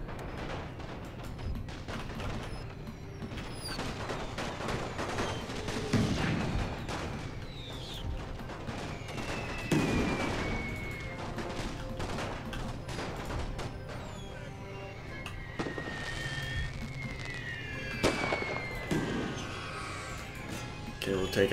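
Artillery fire from a World War I battlefield in the strategy game The Great War, set on the Russian front in 1915: repeated booming shell impacts and dull thuds roll on through the whole stretch amid layered battle noise, with voices talking over it.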